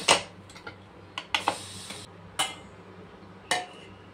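Metal clanks and clinks ring out at irregular intervals as a pressure cooker of boiled mangoes is handled and set down, with quiet gaps between.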